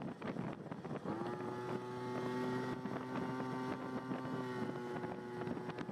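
Honda Urban Express scooter fitted with a notched variator, riding along with a steady buzzing engine drone that rises and shifts in pitch, mixed with rushing wind noise.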